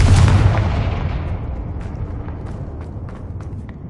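A loud blast from the Confringo fire-blasting spell in a Hogwarts video game, opening with a heavy booming burst that rolls off into a long, fading rumble with scattered faint crackles.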